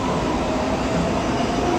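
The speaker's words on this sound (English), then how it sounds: "I missed the train" Train at a station, a steady broadband rumble of rail noise that fills the whole short stretch, with no talking.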